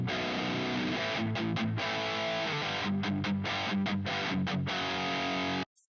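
Heavily distorted electric guitar through a tube amp with a cheap attenuator, chugging thick, saturated chords with short rhythmic stops, played steadily before cutting off abruptly.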